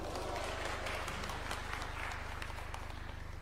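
An audience at a Tom Mboya University event in Homa Bay applauds, a dense, steady wash of clapping heard at a distance and continuing evenly throughout, with a voice faintly over it.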